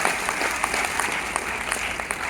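Audience at a direct-selling business meeting applauding their guru, a dense steady round of clapping with a few sharper claps poking through, no talk over it.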